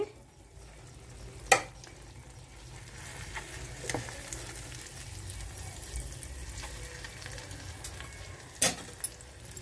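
Rohu fish frying in a pan, a soft steady sizzle with a few sharp clinks from a utensil near the start and end, no voices.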